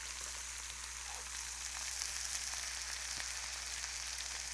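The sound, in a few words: burger sizzling in hot oiled pan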